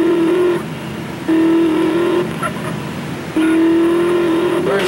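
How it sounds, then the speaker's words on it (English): A race car engine in the video game Grand Theft Auto San Andreas drones at steady pitch, rising and falling in alternating loud and quieter stretches as the car drives on, with no talk over it. "I decided to take a race car here."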